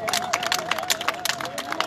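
Crowd applauding at a memorial tribute in Mali, steady dense clapping with scattered cheers filling the whole clip at moderate distance, no speech over it.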